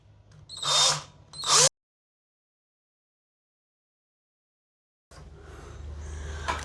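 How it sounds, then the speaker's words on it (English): A power drill whines in two short, loud bursts while drilling holes to support a shelf, then cuts to silence before a lower mechanical hum returns. "I'll probably fast forward this bit for you so you don't have to watch me drilling holes."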